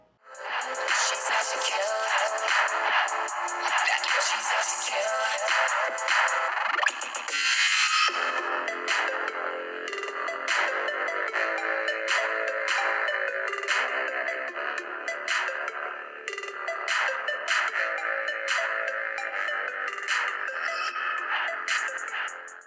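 Music playing through the loudspeaker of an OPPO A95 phone, picked up by a microphone: a steady, full-band track running continuously at even loudness, alone with no voices.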